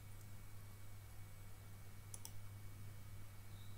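A computer mouse gives a quick double click, faint and close, over a steady low electrical hum with no talking.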